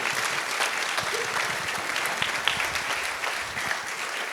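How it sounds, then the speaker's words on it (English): Audience applause for a guest at a church children's ministry event, steady and sustained across the whole stretch, a dense wash of many hands clapping at close range with no voices on top. "Let's give him a round of applause as he's here."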